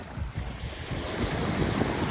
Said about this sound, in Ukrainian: З моря йде шумно з однієї сторони